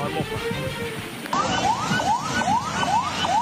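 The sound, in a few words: ambulance siren, ambulance crossing a flooded river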